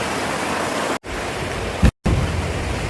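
Snowmelt runoff pouring down the Still River in the mountains, a close, steady roar of rushing water, broken by two brief dropouts.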